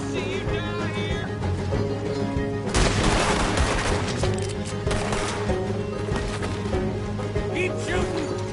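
Dense gunfire from a Red Dead Redemption 2 shootout rattles on steadily for the whole stretch, with a louder burst partway through, layered under game music and occasional voices.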